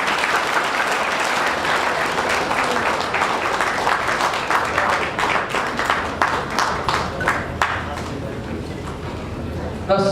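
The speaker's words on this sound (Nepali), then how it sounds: "हामी ताली बजाउनेछौँ।" Wedding guests applaud together at a ceremony, a dense, steady wash of clapping that runs loud throughout with a few sharper individual claps standing out near the end.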